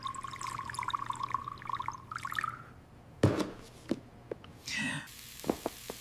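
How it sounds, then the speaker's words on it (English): Fresh white milk poured in a kitchen makes a light liquid stream that trails off into a few drips and soft splashes, heard close and alone. "And I am pouring the fresh white milk."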